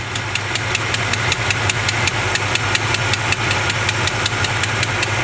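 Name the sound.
1970 Chevrolet C20 truck engine idling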